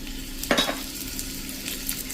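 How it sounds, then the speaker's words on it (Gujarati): Strips of ginger and cut green chillies crackle in hot oil as a soft, steady sizzle, with one brief louder spatter near the start. "જો તેલમાં સેજ ક્રકલ થાય"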